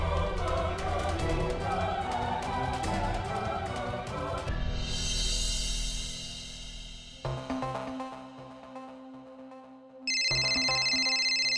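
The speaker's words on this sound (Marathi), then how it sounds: "शन्याचा फोन म्हणजे नक्की काहीतरी प्रॉब्लेम असणार" Mobile phone ringtone in a Marathi TV serial scene, a melodic ringing tune that plays over music, drops away, then returns loud and sustained near the end.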